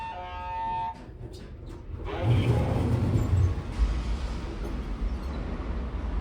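A Queensland Elevators machine-room-less traction lift runs at Newmarket Village, a steady low motor drone and rumbling hum building after a brief tone, continuous and fairly close with no talk.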